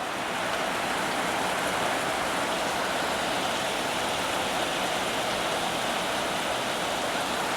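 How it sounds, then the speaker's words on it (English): Heavy rain pours down in a steady, dense roar, loud and unbroken across the whole stretch, with no voices over it. "when you get heavy rain like this, it is not going to let you laze"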